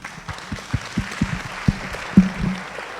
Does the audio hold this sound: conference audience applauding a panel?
yes